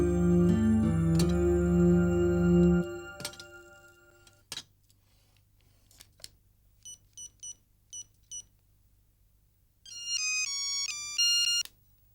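A telephone rings with a loud, repeating electronic ringtone that stops after about three seconds, followed by scattered short beeps and a burst of tonal keypad-like chirps, with no talking.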